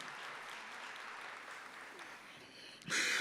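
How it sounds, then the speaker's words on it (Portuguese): A congregation at a Catholic gathering applauds in honour of Padre Léo: a broad, steady wash of clapping that thins briefly before a sudden louder burst of sound cuts in at the end. "Uma salva de palmas para o Padre Léo, nosso amigo do céu."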